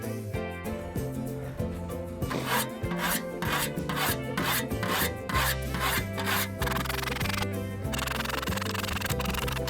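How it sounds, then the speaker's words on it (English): Coarse file rasping along an English scythe blade in steady back-and-forth strokes, close and fairly quiet, with no talking. "But I'm going to try a file and quite a coarse whetstone"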